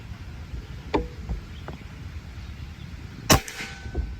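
Two sharp shots from a Predator air rifle fitted with an extra lower plenum, each a crisp snap with a short tail. The first is softer, and the louder second crack comes a couple of seconds later.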